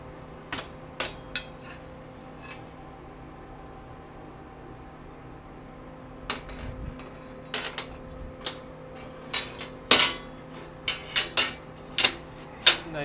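A steel frame for a scratch-built electric locomotive is handled and flipped in a welding jig, giving scattered sharp metallic clanks and knocks over a low hum. The knocks grow busier in the second half, close by, with no talking.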